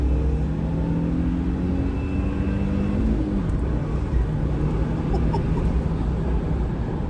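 A turbocharged Suzuki Jimny accelerates at full throttle from around 2,000 rpm, its engine note rising in a steady, loud drone with a low rumble beneath and road and wind roar throughout, heard from inside the car with no talking.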